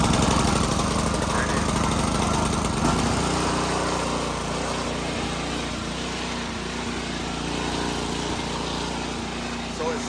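A Cub Cadet RT65 rear tine tiller's small engine is pull-started with the choke out, then settles into a steady, loud chugging run close by, while a person talks over it.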